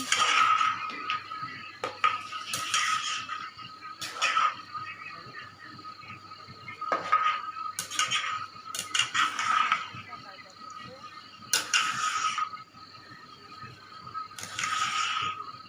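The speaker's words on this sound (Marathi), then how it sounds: "सगळीकडनं सारखा हलवत राहायचा आहे आपल्याला हा गुळ आंबा तयार होण्यासाठी" Mango jaggery jam (gulamba) stirred in a pot, with repeated scraping and clinking strokes of a spoon against the metal at a steady rhythm, under someone talking throughout.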